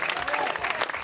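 A live audience claps for a singer at a 2024 tribute show, a short, dense, fairly loud burst of applause with crowd noise.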